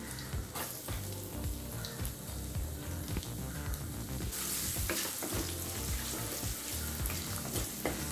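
Finely chopped garlic fries in a pan of hot oil for chicken sukka varuval, a steady loud sizzle with crackling pops and stirring scrapes that intensifies partway through, close and without speech.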